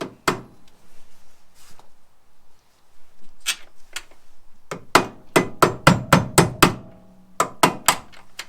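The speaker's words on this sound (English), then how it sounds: "hammer time" A hammer strikes metal in sharp, ringing blows while working on a Mazda MX-5's lower control arm and ball joint, first scattered, then a quick run of evenly spaced hits, loud and close.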